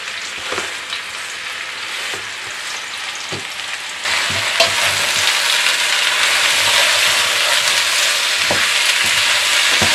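Sliced onions cook gently over low heat in a pot for onion soup, giving a steady close sizzle and crackle that grows slightly louder partway through, with occasional stirring clicks and no talk.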